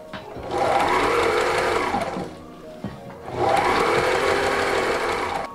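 Electric sewing machine stitching the side panels onto a custom moped seat cover for a Puch Magnum X, two sustained runs of steady motor whir with a short pause between them, close and alone.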